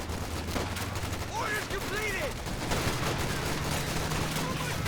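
Machine gun fire in the real-time strategy game Company of Heroes 2, rapid bursts crackling under a faint battle din with brief whistling tones, and no voice over it.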